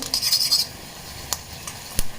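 Asafoetida tempering sizzles in a pan while a utensil stirs it, a brief hissing crackle followed by a couple of sharp metallic knocks against the pan, close and moderately loud.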